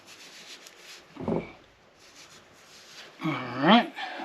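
Brief rubbing and wiping strokes on corrosion-covered parts of a Yamaha F225 outboard lower unit during prop shaft replacement, a close scrubbing burst mid-clip with a voice speaking before and after.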